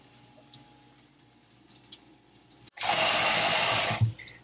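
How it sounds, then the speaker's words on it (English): Fresh parsley being washed in a colander under a running kitchen tap, a loud steady gush of water starting abruptly and running for over a second after quiet handling noises. "Soak the parsley for 10 minutes and then wash it and chop it."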